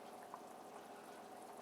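Beef bourguignon with Burgundy wine and herbes de Provence simmers gently over low heat, a faint, steady bubbling and soft popping with no talk over it.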